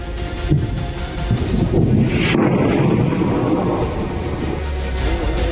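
Israeli fighter jets during an air strike on the town of Khiam in southern Lebanon, a loud continuous broadband roar of jet engines with wind buffeting, steady throughout and rising slightly midway.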